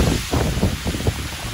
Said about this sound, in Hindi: ये बारिश कितनी हो रही है